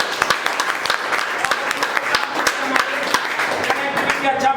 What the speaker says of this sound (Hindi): कुणाल जी के लिए जोरदार तालियां।